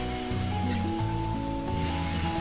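Uttapam batter sizzles on a hot dosa tava, a steady close hiss and crackle under soft background music.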